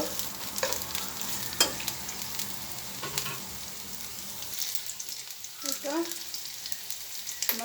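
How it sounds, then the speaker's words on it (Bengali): Green chilies and onions frying in oil in a frying pan, giving a soft, low sizzle with a few sharp clinks and scrapes of stirring and brief faint voice sounds. "ফ্রাই প্যানে তেল দিয়ে দিছি দিয়ে দিলাম কাঁচামরিচ পেঁয়াজ এখন এগুলো একটু তেলে ভাজি করে নেব"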